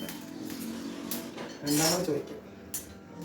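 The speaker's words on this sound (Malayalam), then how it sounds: "ഞാൻ കുറെ ഇളക്കി ഇനി ഇജി കുറച്ച് ഇളക്കട്ടെ" Rice roasting in a cheena chatti wok, stirred with a few metallic scrapes and clinks of the spatula against the pan, close and brief, while a person talks over it.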